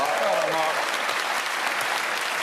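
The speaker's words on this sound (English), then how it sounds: "I think we should give a round of applause" Steady applause from a TV panel-show studio audience, dense and continuous throughout, with a voice briefly audible at the start.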